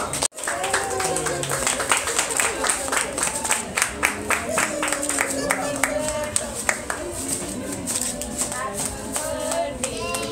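A small crowd claps at a birthday magic show in San Antonio. Brisk, rhythmic hand claps from several people run steadily for about ten seconds, with voices murmuring underneath.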